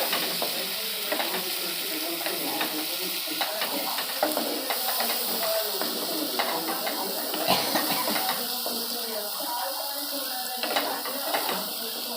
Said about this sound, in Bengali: ভালো করে মশলাটা লাগাই নিচ্ছি, সুন্দর এখন তেলটা ছাড়িয়ে যাইবে